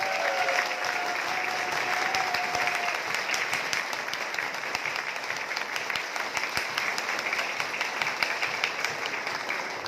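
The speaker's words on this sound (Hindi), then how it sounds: "एक बार जोरदार ताली हो जाए नए लोगों के लिए" Dense, sustained applause from an indoor audience welcoming newcomers at a celebration, many hands clapping steadily throughout with a brief whistle-like tone early on.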